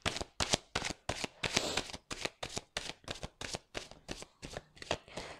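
Oracle cards are shuffled by hand for a reading, producing a quick run of about fifteen crisp riffling bursts in an uneven rhythm, close and quiet, with no voices.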